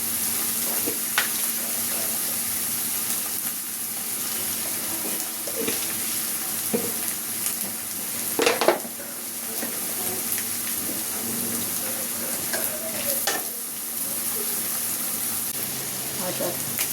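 Spice masala with turmeric, chilli, garlic and cumin being fried in oil in a pan, a steady soft sizzle with occasional stirring scrapes and a louder clatter midway.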